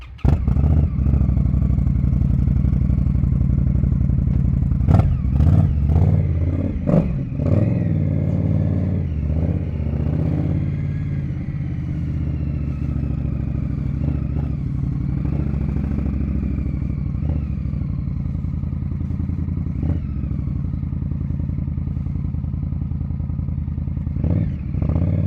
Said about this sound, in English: So I'm gonna hop on the bike here and head on out.